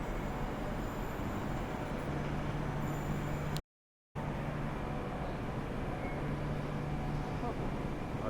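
Train arriving at a station in Perth on the line to Fremantle, a faint steady rumble with a low hum, interrupted briefly by a moment of silence.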